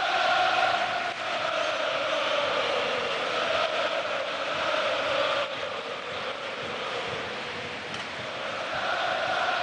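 A stand of about 25,000 football fans at Borussia Dortmund's ground during a match against Stuttgart makes a broad, sustained roar of chanting and singing that swells and dips gently, heard from a distance.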